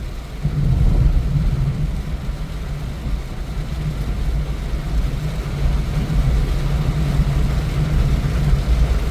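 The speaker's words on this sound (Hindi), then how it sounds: "आराम से गाड़ी चला रहा हूँ 50-60 की स्पीड पे।" A car cruises at 50 to 60 km/h on a rainy night road, a steady low engine and road rumble with broadband wash from tyres and rain, continuous and fairly loud throughout.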